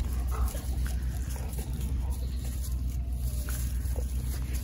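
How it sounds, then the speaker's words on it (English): A dog on a goat farm whimpers and yips close by over a low outdoor rumble, with soft scuffling movement throughout and no talking. "So we have a dog nearby,"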